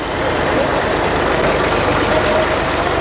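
A tractor engine runs steadily during match ploughing as furrows are turned, a constant, fairly loud diesel drone with a throbbing low rumble and no breaks.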